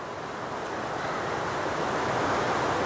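Rushing water in the woods, a steady broadband roar that stays loud and even throughout, with no talking.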